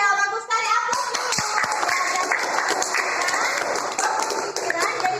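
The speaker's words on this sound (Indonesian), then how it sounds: "Aplaus dulu." A classroom bursts into applause, many hands clapping densely and steadily throughout with voices mixed in, after a brief quieter moment at the start.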